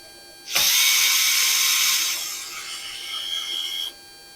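A power driver or drill backs screws out of the chute control lock on a Troy-Bilt 30-inch snowblower, giving one close, loud whirring burst of about three seconds that starts abruptly and drops slightly in pitch before stopping.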